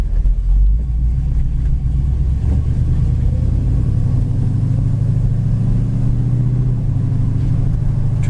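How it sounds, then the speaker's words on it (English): A car engine runs at idle with a steady, close, low rumble and a constant hum, smooth and unbroken throughout, with no voices. "Just a really nice quiet idle."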